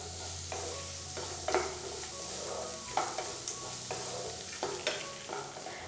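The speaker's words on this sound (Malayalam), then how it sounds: "ഇതെല്ലാം ചേർത്ത് കൊടുത്തതിന് ശേഷം വീണ്ടും നല്ല രീതിയിലെല്ലാം ഒന്ന് വഴറ്റി കൊടുക്കാം" Vegetables for lemon semiya sizzling and being stirred in a hot pan, with a steady frying hiss under repeated close scraping stirs.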